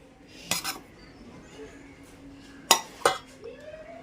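A spoon clinks against a bowl a few times while gongura pickle is mixed with salt and chili powder, with quiet, scattered clinks and a soft scrape between them.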